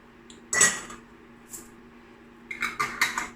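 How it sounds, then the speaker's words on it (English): Metal lids being screwed onto hot glass jars of homemade apple and plum jam, a sharp clink of glass and metal, a faint tap, then a quick run of close clattering knocks. "So close the lids"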